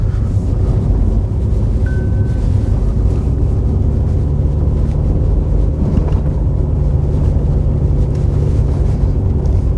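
A car driving on snow with winter tyres in the UK, a steady loud engine and road roar with wind buffeting the microphone, continuous and unbroken for the whole stretch.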